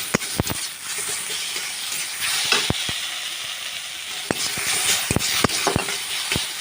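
Tomatoes and onions fry in a pan with a steady, bright sizzle, broken by occasional sharp pops and clicks.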